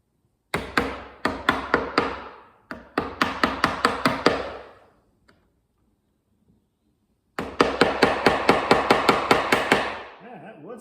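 Hammer blows strike a piece of hard wood clamped in a vise, coming in three rapid bursts of sharp, loud, evenly spaced knocks separated by pauses, close and dry.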